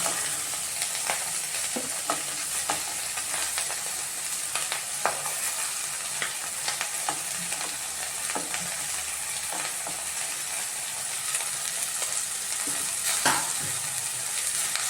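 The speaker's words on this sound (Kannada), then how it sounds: "ಇಷ್ಟು ಫ್ರೈ ಆದಮೇಲೆ ಅವರೆಕಾಳು ಮತ್ತು ಮುಸ್ಲಿಂ ಜೋಳ ಹಾಕ್ತೀನಿ" Avarekalu (field beans) and baby corn frying while being stirred, with a continuous sizzle and regular light scraping taps from the spatula, steady and close, with no talking.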